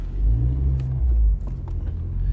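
An oncoming car on the hairpin-laden Stelvio Pass road rumbles past at close range, a brief loud swell of engine noise that fades, with no talk over it.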